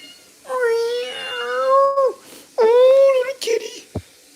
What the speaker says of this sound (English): Oh, little kitty.